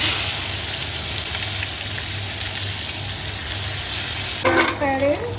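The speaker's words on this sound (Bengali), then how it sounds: "শুকনো লঙ্কা ফোড়ন দিলাম, একটু গোটা জিরে দিচ্ছি" Dried red chillies and whole cumin seeds tempering in hot mustard oil, a continuous dense sizzle and crackle with a brief burst of stirring or clatter near the end.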